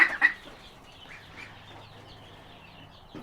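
A couple of sharp Pekin duck calls ring out at the start, then fainter quacks and soft rustling continue nearby.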